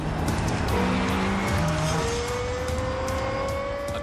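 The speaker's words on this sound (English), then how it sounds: "Aggressive, loud, agile. Highest revving V10 engine in a production car." A Lexus LFA with a high-revving V10 engine drives hard, its engine note climbing in rising tones through gear changes, joined by tire squeal and a loud, close, continuous roar.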